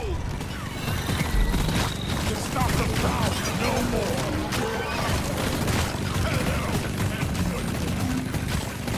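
Weapon fire in the co-op game Deep Rock Galactic as a Brood Nexus is shot, a dense continuous clatter of shots and impacts with booming bursts layered over busy combat noise.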